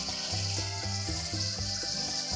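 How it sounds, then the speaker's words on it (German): Peppers and sausages sizzle in a frying pan before tomatoes are added, a steady hiss running beneath louder rhythmic background music. "Auch schön anbraten und dann wird mit Tomaten abgelöscht."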